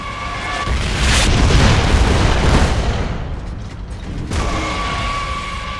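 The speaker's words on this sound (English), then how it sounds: "Firing the mortar at Logan and Joe." In-game mortar rounds boom and rumble in a 4v4 shooter match, a loud sustained blast swelling over the first seconds, easing, then a second thudding impact near the end, with no talk over it.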